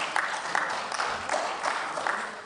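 A crowd claps together in steady, dense applause for the Indonesian basketball federation Perbasi, continuing evenly throughout with faint chatter underneath.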